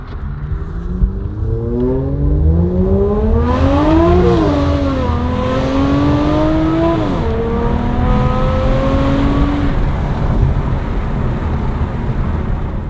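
A powerful Aston Martin Vanquish engine revs hard toward the redline, pitch climbing steadily to a high scream, briefly dropping with a gear change, then rising again, loud and close.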